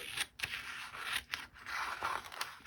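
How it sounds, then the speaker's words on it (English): Scissors make several quick, close snips and scrapes as they cut a letter out of a glossy magazine page, with irregular crunchy cuts and brief pauses between them. "I love that letter W. I'm going to just cut that out."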